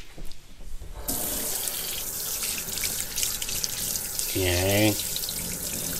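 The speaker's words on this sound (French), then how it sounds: "Je sors de là, puis je mets en dessous de l'eau frette." Raw salmon is rinsed under cold running kitchen tap water, a loud steady gush that starts abruptly after a moment of quiet and keeps flowing while someone says a word near the end.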